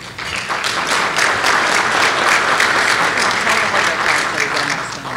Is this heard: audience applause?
yes